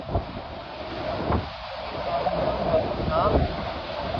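Steady night wind buffets the microphone with a rough, rushing noise, and faint voices talk beneath it.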